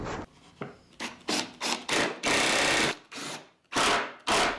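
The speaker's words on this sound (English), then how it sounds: "I then planed the back of the panel to ensure a nice flat joint" A hand plane shaves the back of a wooden panel in a series of loud, close, rasping strokes, each a second or less, separated by short pauses.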